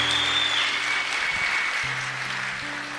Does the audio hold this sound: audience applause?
yes